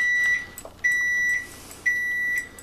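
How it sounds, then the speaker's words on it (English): Kitchen timer buzzer on an oven beeping while a dog's birthday cake bakes: three loud, long electronic tones, evenly spaced, with faint rustling between them and no talk. "I gotta turn off the buzzer here"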